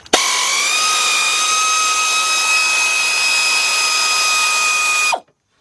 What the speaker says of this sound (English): All right, now I'm gonna loosen up my top one. All right, so let's take them 2 bolts out.